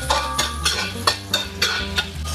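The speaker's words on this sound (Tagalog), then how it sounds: "Maglagay tayo ng mantika at sibuyas." Onion sautéing in oil in a pan for pancit canton, with a regular rhythm of about seven scraping stirs over a soft sizzle, close and fairly loud.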